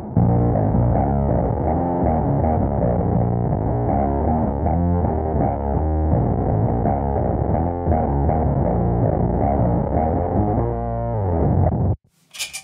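An electric bass played through a pedalboard effect that gives a compact, crumpled, distortion-like tone. Sustained notes and riffs run continuously at steady loudness, then stop abruptly near the end.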